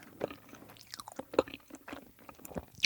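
Soda-flavoured marshmallow chewed very close to the microphone, giving soft, irregular, moist chewing and squishing sounds with a few sharper crunchy bites, quiet and intimate with no talking.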